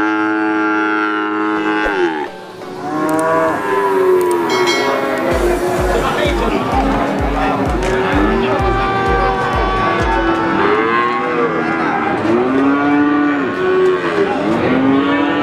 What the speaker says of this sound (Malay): Jadi sapi-sapi bibitan betina.